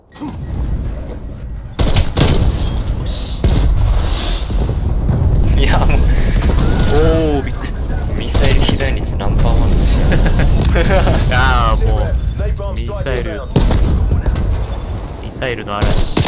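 Missile barrage explosions in Call of Duty: Black Ops Cold War on PS5, a loud continuous storm of booms and blasts filling the whole stretch, with someone talking excitedly over it.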